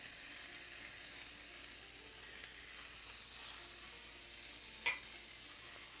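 About eight ounces of frozen mixed vegetables sizzling in a pan, a steady, fairly quiet hissing fry with one brief clink near the end, no speech.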